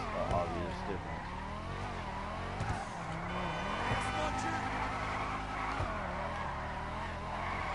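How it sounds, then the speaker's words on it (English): A car spins its wheels pulling straight out of a garage, tires squealing and engine revving in bursts, with a voice talking over the skid throughout. "there goes a wheel spin straight out of the garage"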